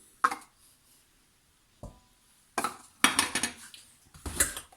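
Mascarpone whisked quickly in a bowl for an easy birthday cake: short bursts of clattering, scraping utensil-on-bowl strokes, sparse at first and then denser and busier, close and fairly quiet.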